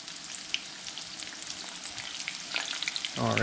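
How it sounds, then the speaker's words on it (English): Small chicken bites frying in a pan of oil deep enough to almost submerge them, giving a steady close crackling sizzle with scattered pops that swells into louder bubbling near the end. "these are gonna cook really, really quickly just because of the size and the fact that we're deep frying them, or pan frying them"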